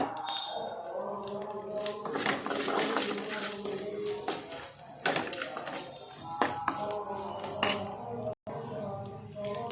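A spoon stirring egg rice with spices in a metal pan, steady scraping and clinking strokes, close and moderately loud, with a person talking over the mixing.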